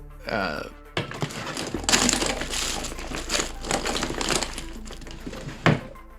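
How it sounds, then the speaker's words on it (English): Dense mechanical clanking, crunching and whirring of smelters, constructors and assemblers in the video game Satisfactory, layered and busy, with a low steady hum and occasional sharper metallic hits. "The noise of the smelters, constructors, assemblers, it all adds up to create the atmosphere of a living machine"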